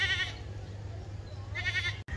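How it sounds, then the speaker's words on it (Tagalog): A goat bleats twice at close range, once briefly at the start and again longer near the end, over a steady low outdoor hum. "yan si Bay Dudo, paring Dudo, yan ang kambing niya."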